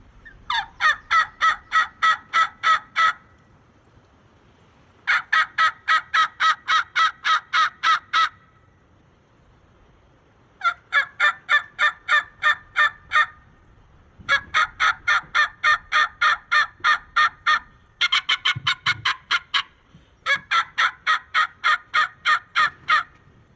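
A snuff-can tube turkey call imitates gobbling in rapid rattling bursts, repeated several times with short pauses between, loud and close with nothing else behind it.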